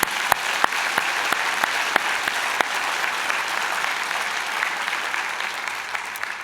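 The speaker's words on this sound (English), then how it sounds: "Let's give you a big round of applause." A large audience at a graduation convocation claps steadily and continuously, a dense wash of hand claps with a few sharper claps standing out near the start.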